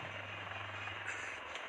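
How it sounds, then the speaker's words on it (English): Dhruv and Rudra military helicopters of an Indian Army brigade approach in a parade flypast, a steady low rotor thrum from a distance, brief and uninterrupted by talk. "On the skyline, helicopters of 603 Independent Aviation Brigade are approaching the saluting dais."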